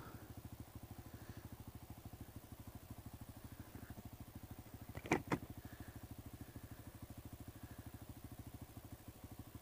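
A 2015 Honda Grom motorcycle putters along at a steady, even rhythm, its small engine heard faintly and continuously with a brief pair of sharp clicks midway.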